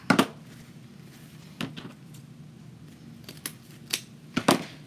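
Scissors snip through wired ribbon in a few sharp, close cuts, spaced irregularly with quiet pauses between them.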